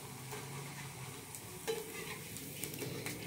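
Rengginang rice crackers are dipped into hot oil in a wok and fry with a soft, steady sizzle and light crackle, fairly quiet and close, with a few faint stirring clinks.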